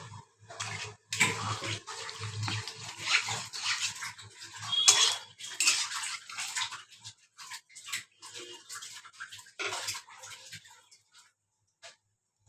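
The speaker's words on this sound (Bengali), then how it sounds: "দিয়ে দিলাম জল, একটু ফোটানোর জন্য আমি ঢেকে দিলাম" Water goes into a kadai of egg and potato curry with a splashing, gushing pour and some clattering of metal, then tapers off into quiet with a few faint knocks.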